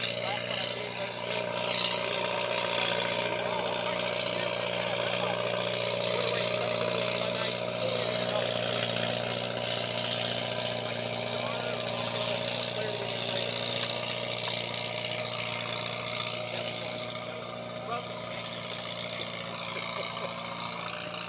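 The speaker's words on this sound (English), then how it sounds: "I can tell over the roar of the tractor over there." A steady, droning tractor engine rumbles continuously at a constant level, with a mechanical hum and no change in pace throughout, at a county fair tractor pull.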